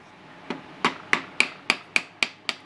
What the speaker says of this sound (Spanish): suave, con un martillito de teflón, la soltamos